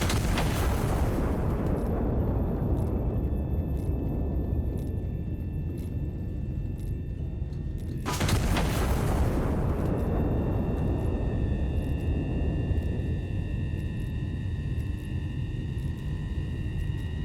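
Huge artillery shells burst in a video game, two heavy booming explosions with long rumbling tails, one at the start and another around midway, with no voices over them.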